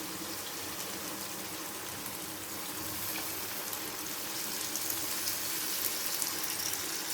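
Steady stream of water pouring into a cooking pot of aloo chicken, about one glass, a continuous gushing hiss that grows slightly louder midway, with no talking.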